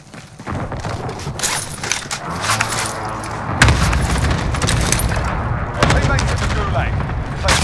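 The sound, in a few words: cluster airstrike explosions in Call of Duty video game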